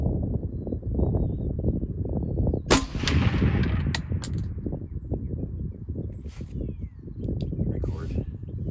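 A single loud rifle gunshot cracks outdoors at a 300-yard range and leaves a short decaying tail, set over steady broadband noise with a few faint clicks afterward.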